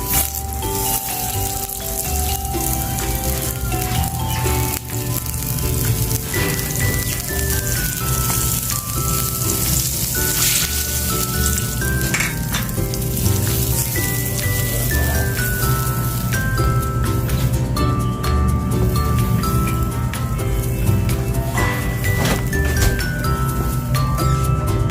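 Butter melts and sizzles in a pan while garlic-butter baked mussels are prepared; a steady, close frying hiss runs the whole time beneath louder background music.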